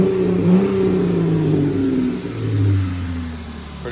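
A 2018 Jeep Wrangler Unlimited JK engine rumbles steadily, its low exhaust note rising and falling as it revs, heard close and alone with no talking.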